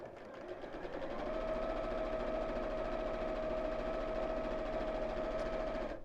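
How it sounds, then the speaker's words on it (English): Sewing machine stitching across the top of a fabric water bottle carrier, a steady continuous mechanical whir with a faint tonal hum, close and fairly quiet, no talking. "then we'll sew across the top"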